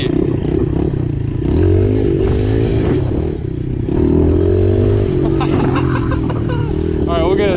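A new pit bike engine pulls and revs, with a buzzing drone that rises and falls in pitch, close and loud, mixed with wind rush and clatter, and a voice speaking over it.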